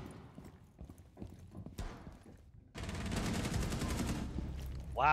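Rapid video-game gunfire bursts out loud and sustained for over a second, following scattered footsteps and shuffling, with a sharp electronic tone at the end.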